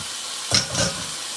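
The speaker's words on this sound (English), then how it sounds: "that's the sizzle we want to hear because it means it's cooking" Ground meat frying in a pan for homemade nachos gives a brief, close burst of sizzling hiss as it hits the hot surface, fading back to a low steady fry.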